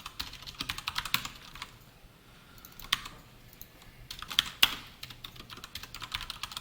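Java code being typed on a computer keyboard for a text bulletin board program, with quiet, close, uneven runs of key clicks, brief pauses and a few sharper keystrokes, with no talking.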